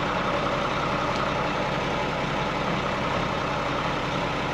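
An ERF truck's engine idles steadily with the Eaton clutch pressed in, a loud, even, continuous low rumble that holds without change throughout, with no talking.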